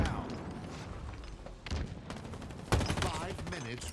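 Gunfire and blasts from a grenade fight in the Halo Infinite multiplayer game, quiet, with scattered shots and a sharper explosive burst near the end, a voice faintly underneath.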